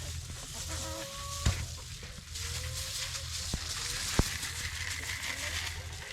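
Chickens being fed table scraps, scratch grains and mealworms give soft clucks and short calls at a farm, with a few sharp knocks and steady background rumble.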